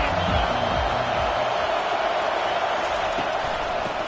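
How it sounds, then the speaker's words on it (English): Dense roar of a packed stadium crowd at an LSU versus Florida college football game, a constant loud wash of cheering and noise with no break. "This crowd bringing an ear-splitting welcome to their visitors."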